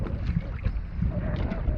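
Steady wind buffeting the microphone out on Manukau Harbour while snapper fishing from a jet ski, a continuous low rumbling roar with faint water lapping against the hull, no voices.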